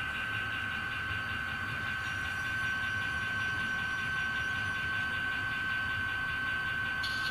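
An ESU LokSound V4.0 decoder playing an EMD 645E3-16T SD40-2 model diesel locomotive, C&NW #6847, gives a faint, steady engine drone with a constant high whine over it, and it runs unbroken throughout.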